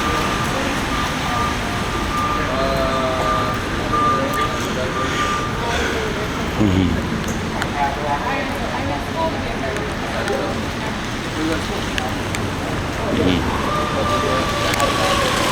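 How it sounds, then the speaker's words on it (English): A fire truck siren holds a steady tone at a distance, fading out midway and returning near the end, beneath constant background noise and nearby talking. "Uh-oh, I hear the fire truck again."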